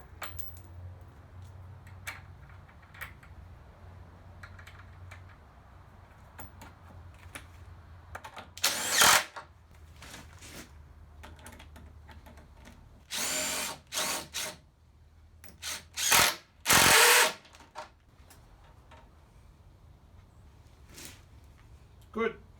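Power tool driving nuts and washers onto the bolts of a firewood rack frame, several loud bursts of a few seconds each, close by, separated by quiet pauses and light handling clatter.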